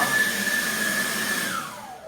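A battery-powered leaf blower runs steadily at close range with a high whine, then its tone drops away as it begins spinning down near the end, with no talk.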